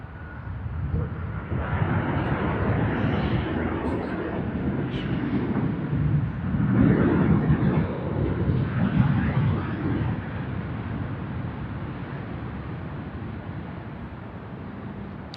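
A Virgin Australia airliner on its Adelaide to Sydney service passes near Sydney Airport, a broad engine roar that builds to a peak midway and then trails off, heard without any talking.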